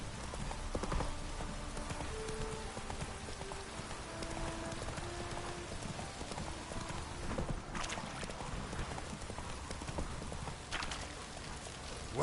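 Roach, a horse in The Witcher 3, clip-clops along at a steady pace, hooves close and regular under a light wash of rain, with a few sharper knocks breaking through.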